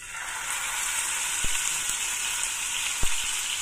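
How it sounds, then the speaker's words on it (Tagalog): Salmon fish fries in hot oil in a pan with a loud, constant close-up hiss, and two sharp clicks of utensil against pan cut through the steady sizzle. "Nakapaglagay na ako dyan ng mantika at mainit na rin yung kawali, so ilalagay na natin ang salmon fish"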